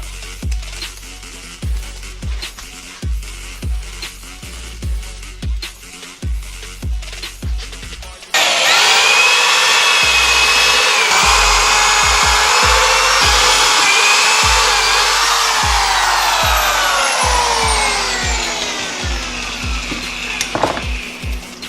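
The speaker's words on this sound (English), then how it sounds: "Now I'm just going to mark the holes where I want the vise to be and drill them out." Rhythmic knocking and tapping, then a power drill starts and whines steadily for several seconds, drilling mounting holes for a vise, loud and close, slowly winding down near the end.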